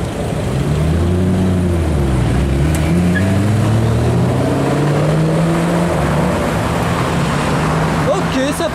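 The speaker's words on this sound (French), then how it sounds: "Ford GT les gars, j'étais pas prêt du tout pour cette Ford GT." A Ford GT sports car drives through Paris street traffic, its loud engine note rising and falling steadily across the whole stretch over continuous roadway noise.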